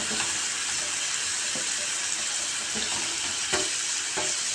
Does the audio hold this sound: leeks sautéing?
yes